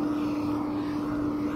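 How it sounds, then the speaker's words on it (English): A tractor engine runs with a continuous, steady drone and a strong low hum, loud and unbroken, near a farm during a walk. "This tractor won't shut up."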